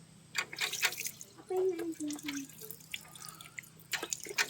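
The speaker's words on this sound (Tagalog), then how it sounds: "Hugasan muna natin ito." Water runs and drips while a Yamaha Aerox 155 v2 scooter shock cover is rinsed by hand, with splashes in bursts and a short rising trickle, and someone talks intermittently over it.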